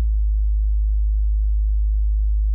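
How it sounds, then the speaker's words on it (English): A plain sine-wave bass from a lofi beat holds one steady, deep, loud tone, sidechained to the kick drum, and sounds alone with no other instruments. "Very simple sine bass"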